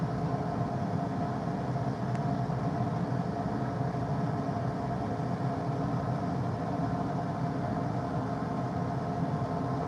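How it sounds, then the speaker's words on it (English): Tractor engine droning steadily while clipping a pasture, a constant low mechanical rumble with no breaks and no voices. "I've quit paying attention where I'm going with this tractor."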